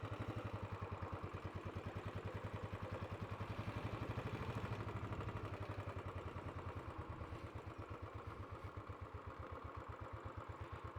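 A Royal Enfield Classic 500 motorcycle idles in neutral with a steady, rapid single-cylinder thump and mechanical clatter, constant and even throughout without speech.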